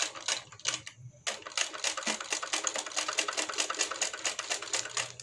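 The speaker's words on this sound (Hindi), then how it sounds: "अब इसके ऊपर हम सिलाई लगाएंगे।" A sewing machine stitches the hem of a Patiala salwar in fast, rhythmic clatter, with a brief pause near the start before it runs steadily again.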